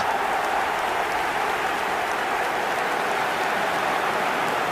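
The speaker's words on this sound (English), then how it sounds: "Even some of the opposing fans are clapping that." Steady, dense clapping from a large stadium crowd in the eFootball 2025 video game fills the whole stretch, a broad even roar of applause with no voices rising above it.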